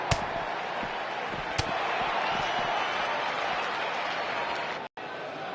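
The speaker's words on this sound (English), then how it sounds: "by the sound of this crowd, I think they're getting what they wanted" Arena crowd in the WWE 2K19 wrestling video game roars and applauds steadily throughout, a loud, dense wash of cheering with a few sharp thuds, cutting out for a moment near the end.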